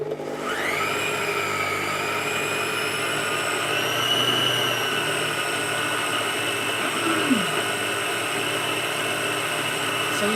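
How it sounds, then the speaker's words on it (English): An electric stand mixer slowly kneading steamed bun dough, with a motor whine that rises as it starts and then holds as a steady, close hum throughout. "So you just want to mix that slowly until it forms a dough"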